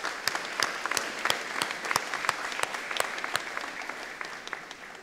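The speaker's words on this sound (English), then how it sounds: "please join me in a round of applause to congratulate the grads of" Graduation audience of parents, family and faculty applauding the class of 2017 at North Delta Secondary, a sustained wash of clapping with sharp individual claps standing out, steady and fairly close throughout.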